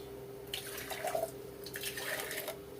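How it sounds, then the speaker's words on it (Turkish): Hot water poured into glass jars while canning peas: two faint, splashing pours with a quiet pause between them, and no voices. "Şimdi bu sıcak sudan şöyle kavanozlarıma dökeceğim."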